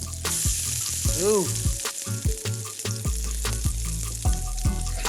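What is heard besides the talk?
fritters frying and sizzling in a pan after flipping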